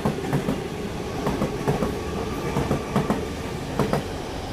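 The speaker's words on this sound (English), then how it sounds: "Here we've got a Waratah. It's not stopping." A Sydney Waratah suburban train runs straight through a station without stopping, its wheels beating out a steady, evenly spaced clickety-clack over rail joints under a continuous rumble, close by and fairly loud.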